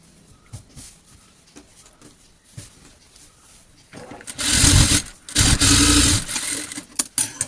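A sewing machine stitches lining to main cloth. Soft handling noises come first, then two loud, close bursts of rapid whirring stitching, each lasting about a second or two.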